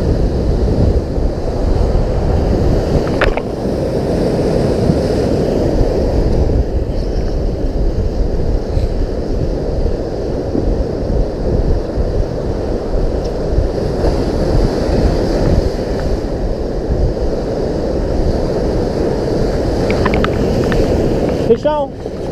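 Ocean surf at high tide on a beach washes in a continuous, loud, rumbling roar, mixed with wind buffeting the microphone and a few faint sharper sounds.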